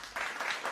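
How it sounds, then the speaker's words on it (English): Short round of applause for a man named Black, a steady wash of clapping across under a second with no voices. "Round of applause for Black, man."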